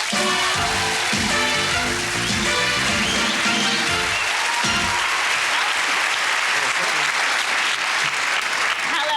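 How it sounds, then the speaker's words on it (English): Loud, sustained applause from a studio audience at an LWT Blind Date taping in 1989, a dense wash of clapping that fills the whole stretch with a voice briefly over it early on. "Don't you dare clap that, you."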